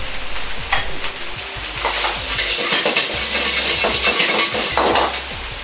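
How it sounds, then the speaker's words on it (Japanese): Black fried rice seasoned with soy sauce and caramel sizzles and crackles in a wok as it is tossed and stir-fried quickly, with steady hissing and scraping, close up, with no talking. "調味料の余分な水分を飛ばすように鍋を手早く煽り炒めていきます"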